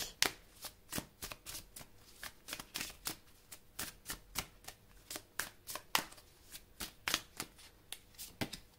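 Tarot cards shuffled and laid down in a quick, steady run of crisp riffling slaps, close and fairly quiet, with no talk over them.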